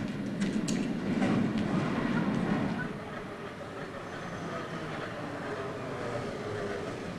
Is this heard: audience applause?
no